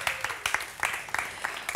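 An audience at a panel discussion gives a brief burst of clapping from many hands to welcome a guest.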